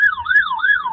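Fire apparatus sirens wailing outside the White House on its north side, a loud, close electronic tone rising and falling in quick repeated sweeps, heard alone with no talk.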